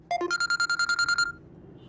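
A phone ringtone plays nearby, a quick run of bright repeated electronic tones, a brief pause, then the melody starts again.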